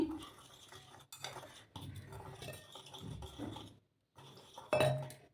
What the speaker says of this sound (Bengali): লবণটা দিয়ে দিচ্ছি দিয়ে প্রথমে শুকনো উপকরণগুলো একটু মিক্স করে নিচ্ছি আমি